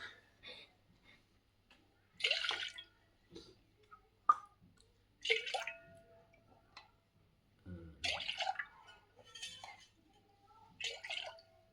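Water poured from a steel glass into a wide tray during a home Shiva puja, heard as several short splashing bursts separated by quiet gaps, with clinks of metal and voices between them.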